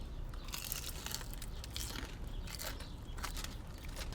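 Close, crisp crunching from bites into crispy fried shrimp at a Baltimore restaurant, a steady run of crackly chews with no talking.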